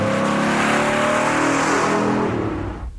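A 1969 Chevrolet Camaro muscle car roars loudly as its engine revs and pulls hard, the note sliding down before dropping away sharply at the end.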